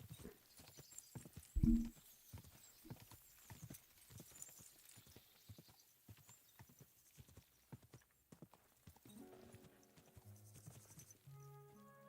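Horse hooves clip-clop steadily in Kingdom Come: Deliverance 2, a rhythmic run of close hoofbeats with a brief loud knock early on and soft game music rising near the end.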